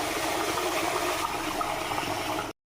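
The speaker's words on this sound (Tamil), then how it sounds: "தண்ணி நல்லா ஊற்றுங்க." Water poured steadily into a pot of rice and dal for cooking, a dense continuous splashing rush, close and loud, cutting off abruptly at the end.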